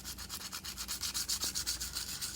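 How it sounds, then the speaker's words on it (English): Light or medium grit sandpaper roughing up the surface of a metal or plastic light switch plate, a quiet rhythmic back-and-forth rasp of about a dozen even strokes, heard alone. "take some light or medium grit sandpaper and"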